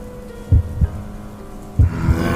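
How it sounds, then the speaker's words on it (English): Two loud, booming double heartbeats pulse at a slow, even pace, deep and close, over a low steady rumble. "there was a loud and booming heartbeat, alongside something worse."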